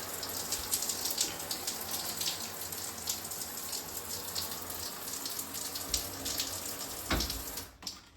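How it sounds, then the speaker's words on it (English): An old low-flow shower head runs steadily, giving a continuous hissing spray of water with a few splashy surges and a brief break near the end. "This one that's in here now is a low flow shower head."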